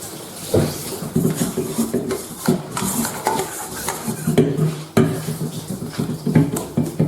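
Dough for dinner rolls being scraped from a bowl, a series of close, irregular scrapes and clunks against the bowl with short pauses between strokes.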